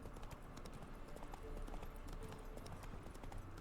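Horse hooves clip-clopping at a steady walking rhythm in the video game The Witcher 3, close and continuous over a dense outdoor ambience, with occasional speech-like sounds in the mix.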